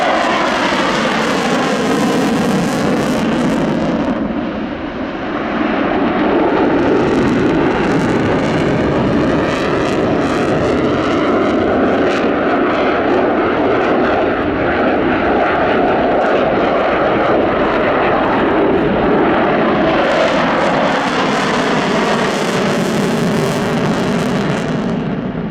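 A Sukhoi Su-27 Flanker jet performing a flying display at RIAT 2018, its engines roaring loud and continuous, briefly dipping, then rising and shifting in pitch as it passes and maneuvers overhead.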